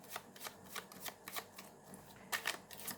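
A tarot card deck being shuffled in quick, crisp riffling bursts, several short flurries spread across a few seconds, close and fairly quiet with no talking.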